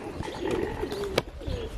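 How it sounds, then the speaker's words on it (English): Doves kept at a village home in Kitale give a soft, rolling coo that swells and fades over a couple of seconds, close by with no talking. "here is where we keep the doves"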